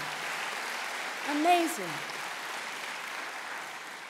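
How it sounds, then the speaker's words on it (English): Audience applause at a talk on an election: a steady wash of crowd clapping throughout, with a brief spoken word over it. "You should applaud California, our great state, right now for that."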